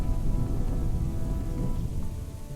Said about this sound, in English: Oh, lightning storm.